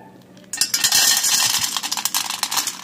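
Raw or roasted peanuts and a few raisins are poured into a bowl: a sudden, close rattling clatter of hard nuts that breaks out after a quiet moment and continues in uneven bursts, with no talking.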